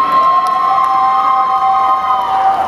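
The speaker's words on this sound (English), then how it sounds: "The audience cheer" An audience cheers and shouts loudly in a sustained wash of crowd noise at a Mob Psycho 100 convention panel at Animanga 2018.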